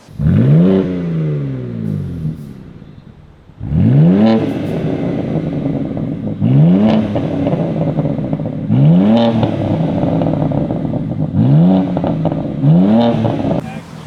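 A 2024 BMW M2 with a custom exhaust and mid pipe revs hard in repeated bursts, about five loud throaty climbs with crackling exhaust, each falling back to a rumbling idle between.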